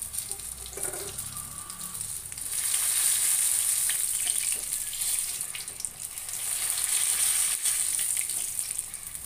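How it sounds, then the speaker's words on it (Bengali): Pakoras fry in hot oil with a dense, continuous bubbling sizzle that swells louder midway and stays steady and close throughout, with no voices. "এভাবে কিন্তু 2-3 মিনিট ভেজে নিতে হবে"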